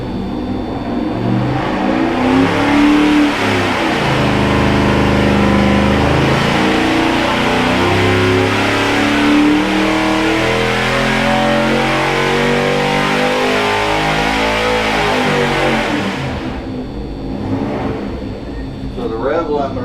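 A Dodge Dart Swinger with a Chrysler 360 V8 revs hard and holds near its rev limiter, producing a loud, sustained roar with wavering pitch for about sixteen seconds before cutting off, close by, with people talking nearby.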